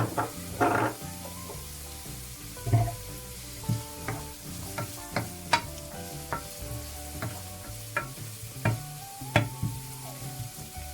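Carrots frying in a pan sizzle steadily under repeated stirring, with intermittent scrapes and clacks of a utensil against the pan, close and moderately loud, broken by occasional louder bursts.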